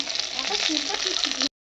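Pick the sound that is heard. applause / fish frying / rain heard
fish frying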